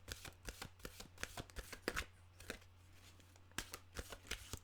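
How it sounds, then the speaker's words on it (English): Tarot cards being shuffled up close, a quiet run of irregular riffling clicks and flutters with short pauses between bursts, no voice over it. "My goodness, the cards needed shuffling."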